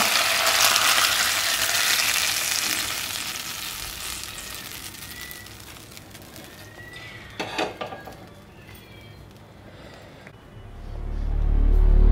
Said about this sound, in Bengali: এবার আমি এটা চিকেনের ওপরে ঢেলে দেব